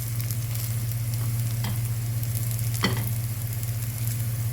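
Curry leaves sizzling in hot oil, a loud, dense, continuous crackle up close, with a steady low hum underneath and a couple of sharper pops near the middle.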